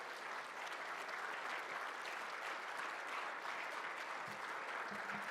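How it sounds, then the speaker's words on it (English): An audience at the RJC Annual Leadership Summit applauds, a steady, even wash of clapping heard at a distance and fairly quiet throughout. "give you a round of applause"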